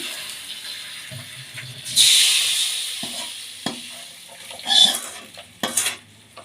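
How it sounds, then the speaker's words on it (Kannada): Hot tempering poured into a guava-leaf buttermilk tambuli crackles into a bright hiss, followed by the clink of a spoon stirring against a metal vessel, close up with no talking. "ಈಗ ಬೇ ಸೀಬೆಕಾಯಿ ಮಜ್ಜಿಗೆಗೆ ತಂಬುಳಿಗೆ ಒಗ್ಗರಣೆ ಸೇರಿಸ್ಕೊಳ್ಳೋಣ"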